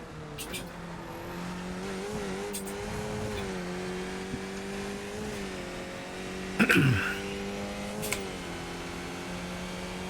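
Race car engine droning and rising in pitch in a racing video game, steady and moderately loud, with a brief sharp burst near the end.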